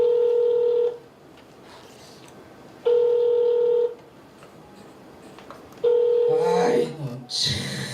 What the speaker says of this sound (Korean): 아무래도 전화를 해봐야겠어요.